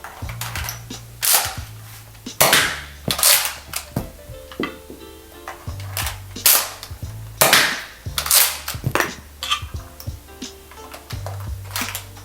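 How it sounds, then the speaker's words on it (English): Plastic clicks and clacks of X-Shot Excel ejector shells being loaded into a toy blaster chamber, a series of sharp snapping and rattling sounds at an uneven pace, close and fairly loud, with a low hum underneath. "What I'm going to do now is just focus on getting the shell into the chamber properly."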